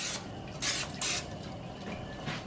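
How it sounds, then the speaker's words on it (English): Short hissing bursts of olive oil cooking spray misted into a pan, two or three quick spritzes close up over faint kitchen background noise. "I'm going to spray my pan with a little bit of"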